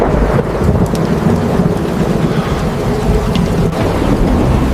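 Heavy rain pours steadily while thunder rumbles and cracks nearby, loud and continuous throughout.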